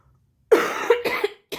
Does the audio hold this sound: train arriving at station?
no